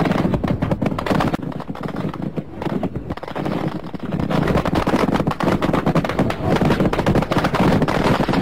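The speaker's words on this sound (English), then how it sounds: "the Chinese used battleship for firing with 37mm anti-aircraft guns directly at the unarmed and light-armed Vietnamese" Rapid gunfire from 37mm anti-aircraft guns aboard a Chinese warship during the 1988 Spratly Islands clash, a dense, continuous stream of loud bursts and booms with no clear pauses.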